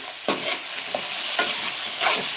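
Sour country tomatoes sizzle in a hot pan while a spoon stirs them in a few distinct scraping strokes, steady frying hiss underneath, close and moderately loud.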